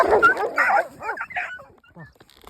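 A shepherd dog barks, yips and whimpers up close in short excited bursts that taper into softer whines and snuffles.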